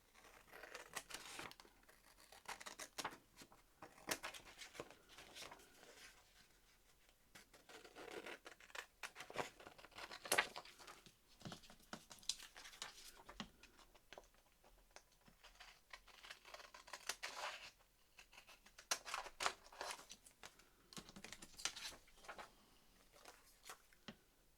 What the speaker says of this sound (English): Isn't it funny how some scissors you can just cut straight with and others you just